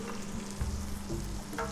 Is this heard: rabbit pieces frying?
yes